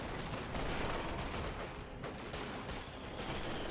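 Sustained gunfire in a multiplayer video game match with snipers and squads, a dense, continuous crackle of shots and blasts blending together at steady loudness throughout.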